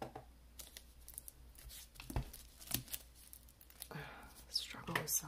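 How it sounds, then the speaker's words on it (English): Cellophane wrap being torn and crinkled off a deluxe edition hardcover book, a series of close, quick ripping and crackling bursts with brief pauses between them. "Struggle with cellophane is real."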